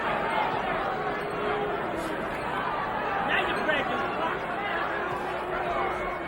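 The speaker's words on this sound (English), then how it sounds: "Crowd getting a little tired of that." A boxing arena crowd murmurs restlessly in a steady, dense babble of voices at a distance, with occasional scattered shouts, while a commentator's voice runs over the top.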